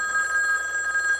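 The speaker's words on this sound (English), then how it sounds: "ringing phone." A telephone bell ringing continuously and steadily for over a second, a bright metallic trill close and clear with nothing else over it.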